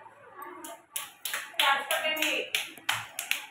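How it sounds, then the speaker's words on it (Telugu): Children clap together in a classroom, bursts of fairly close, mixed hand claps arriving in several uneven waves over a few seconds, with faint voices of kids in the background. "అయితే క్లాప్స్ కొట్టండి."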